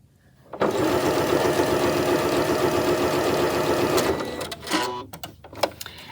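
A sewing machine stitches quilt binding in a fast, steady mechanical hum. It runs continuously and loudly for about three and a half seconds, then stops, followed by a few handling clicks and rustles.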